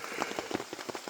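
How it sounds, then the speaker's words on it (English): Rain patters on a tarp in quick, uneven taps, a brief faint spell of scattered drops against a soft hiss. "It's still raining, so I can't really fix it right now"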